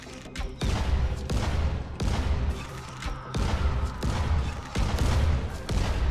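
Explosive shots fire in the zombie game Dying Light, a rapid, loud series of heavy blasts and thuds repeating roughly every half second to second, close and dominant with no talk over them.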